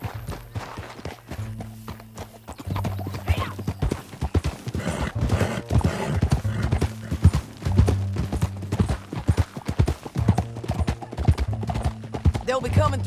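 Horse hooves clip-clop steadily and loudly through a Red Dead Redemption 2 ride, with music-like tonal bands and occasional neighs mixed in under a continuous galloping rhythm.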